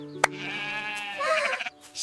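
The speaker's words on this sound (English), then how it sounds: "Fluffy sheep." Fluffy farm sheep giving a single sustained, wavering bleat up close, preceded by a brief sharp click, then fading out.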